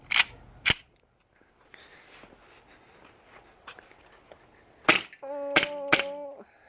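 An Elite Force 1911 Tac airsoft pistol fires a handful of sharp, close snapping shots: two early, then a pause with faint handling noise, then three more in quick succession followed by a short ringing tone.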